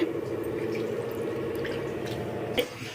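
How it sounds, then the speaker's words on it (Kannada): Water is poured into sweet jowar and ragi millet flour to knead roti dough, giving a close, continuous trickling splash with a small bump near the end. "ಈಗ ನಾನು ಇದಕ್ಕೆ ನೀರು ಹಾಕ್ಕೊಂಡು ರೊಟ್ಟಿ ಹಿಟ್ಟಿನ ಅದಕ್ಕೆ ಕಲಿಸ್ಕೊಳ್ತೀನಿ"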